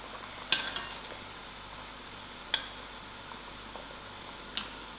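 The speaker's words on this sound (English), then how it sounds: "add it into my boiling dhal and let it to simmer" A low, steady sizzle and simmer of tempering stirred into boiling black urad dhal, with a few sharp ticks and clinks of a spoon against a pot, faint and close.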